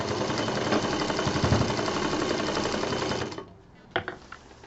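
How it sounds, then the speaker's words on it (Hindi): A sewing machine stitches through three layers of a patchwork bed cover with a fast, steady mechanical chatter that runs for about three seconds, then stops, followed by a few soft clicks and handling knocks. "तीनों परतों को सिल देंगे।"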